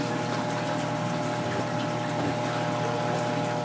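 Water trickles through bio balls in an aquarium sump filter, a steady dense wash of splashing and pump hum that holds at one level throughout, close by with no voices.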